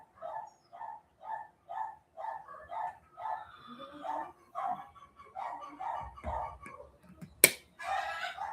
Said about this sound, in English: I think every dog in the neighborhood is going to start barking.